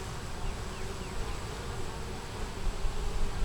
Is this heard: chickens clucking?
no